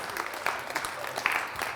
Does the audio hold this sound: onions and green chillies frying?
no